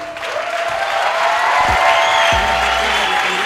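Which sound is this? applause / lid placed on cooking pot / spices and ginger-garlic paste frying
applause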